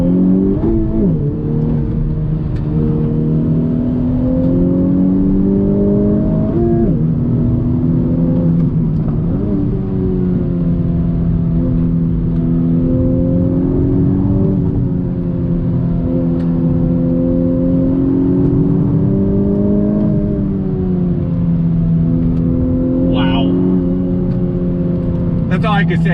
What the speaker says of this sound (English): On throttle, here we go. Waiting for the revs to climb.